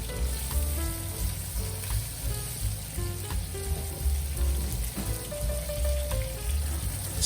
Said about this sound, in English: Add green beans and potatoes and stir fry for 3 minutes.